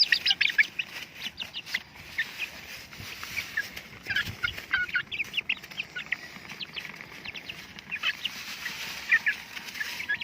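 Free-range native chickens eating feed outdoors, with a busy chorus of soft clucks, chirps and pecking nearby, continuous and moderately quiet throughout.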